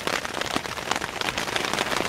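Steady rain falls and spatters on surfaces while rainwater is being collected, a dense continuous hiss of drops, close and even throughout with no voices.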